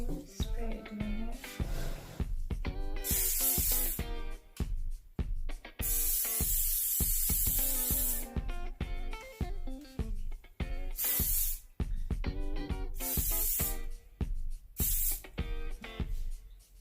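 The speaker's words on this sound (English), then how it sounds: "So I will spray it in my hair." Several short bursts of hairspray hiss in sequence as it is sprayed onto curly hair, separated by pauses, with someone speaking quietly between sprays.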